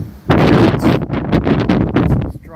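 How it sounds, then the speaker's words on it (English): Strong wind gusting through a home vegetable garden, buffeting the microphone in loud, rumbling bursts that surge and ebb continuously with no voices present. "strong wind gusts today."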